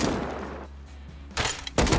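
Gunshots in the game Rust: a burst of firing fades out, a quiet gap follows, then two more heavy volleys of shots crack close and loud.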